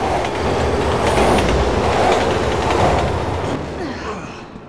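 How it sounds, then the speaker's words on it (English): A train rumbles loudly past in the zombie-overrun city of the video game Resident Evil 6, heavy clattering wheels and roar holding steady before fading over the last second, with no talking. "How are the trains still running?"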